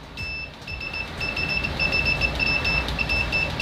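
A cheap Dr.Meter MS88 multimeter in continuity mode, probed with Brymen test leads, emits a shrill, loud electronic beep that sounds in rapid intermittent bursts, then holds almost continuously, over faint background noise.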